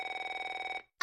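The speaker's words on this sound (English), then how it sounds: "Oh, wait, that is the phone." A cartoon telephone rings once with a steady, pulsing electronic trill that cuts off abruptly, followed by a brief separate sound.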